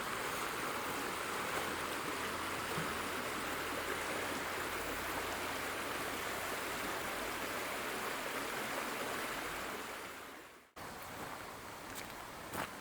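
A river flows steadily along a rough vehicle track, a broad continuous rush of water close by that stays loud and even before cutting out abruptly near the end.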